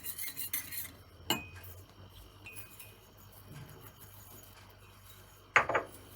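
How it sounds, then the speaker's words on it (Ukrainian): A metal utensil clinks and scrapes against a pan while stirring thickening lasagna sauce, with a couple of sharper knocks near the start and end; quiet otherwise. "Мішаю, мішаю ретельно, щоб не пригоріло."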